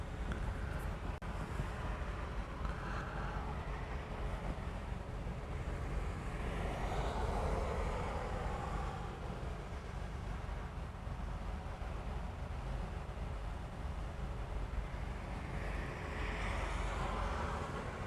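An airliner takes off from runway 4 left at Honolulu airport, a loud sustained jet roar with heavy low rumble and wind buffeting that swells and fades, heard from the ground without talk.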